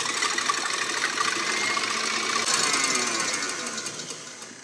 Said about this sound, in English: We're gonna use the whisk attachment to whisk these egg whites until they're light and fluffy.